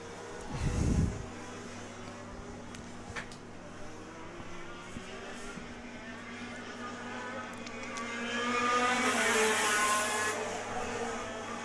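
Racing karts in an IKC championship race run down a back stretch, their engines a steady drone at a distance, with a louder pass near the start and the engine note swelling again toward the end.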